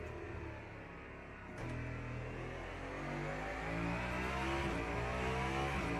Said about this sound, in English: This car sounds pretty nice.